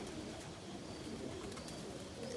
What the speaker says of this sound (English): There's my other loft of birds over there.